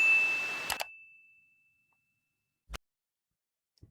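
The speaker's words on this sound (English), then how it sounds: "ring the bell so you never miss a video again" A single bright notification bell dings once, ringing clearly and fading out over about two seconds, followed by a couple of faint clicks in silence.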